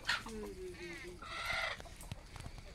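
Native country chickens cluck and call close by in a short burst on a chicken farm in Modlimb, Solapur, several overlapping birds with a brief higher squawk, against a noisy outdoor background.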